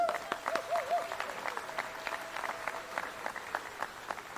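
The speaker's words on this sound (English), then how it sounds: "Big round of applause." Steady applause from a crowd at a civic ceremony, dense and continuous at moderate volume, with no voices standing out.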